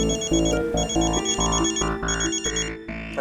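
A mobile phone ringtone plays loudly and close during an attempted call, a bright repeating electronic melody of rising and falling tones that fills the moment on its own.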